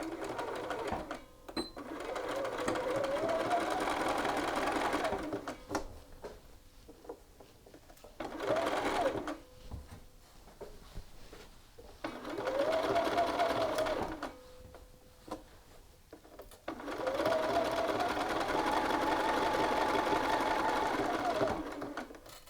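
A sewing machine stitches across a shirt's shoulder seam and then back tacks, running in several close bursts of whirring hum separated by short pauses.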